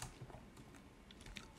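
Rapid keystrokes on a computer keyboard while a git commit message is typed, a quiet, close run of uneven clicks with no talking.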